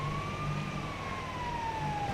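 Ambulance siren in GTA FiveM, a steady wailing tone sweeping slowly up and down, loud and close, with a low engine rumble beneath and no talking.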